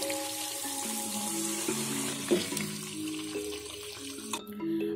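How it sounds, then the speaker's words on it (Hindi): Half a cup of water is poured into a pan of chicken white korma (shahi korma) frying on the stove, giving a steady splashing, running-water sound with brief sizzle bursts throughout, close and fairly loud. "अब हम इसमें आधा कप पानी डालेंगे"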